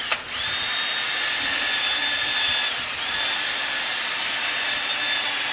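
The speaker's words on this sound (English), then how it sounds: "And I drill a starting point here." A power drill boring a starting hole into a hickory walking stick: one steady, high whining drone that holds for several seconds with a brief dip partway through, close and loud, with no speech.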